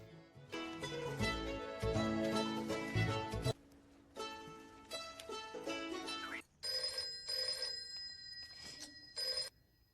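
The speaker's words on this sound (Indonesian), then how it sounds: "Jika telepon berdering hingga 2 kali, maka itu menjadi kode panggilan darurat bagi mereka." A telephone rings in short repeated bursts of bright, steady tones toward the end, following a stretch of loud music-like sound with sharp stops and starts; no one speaks.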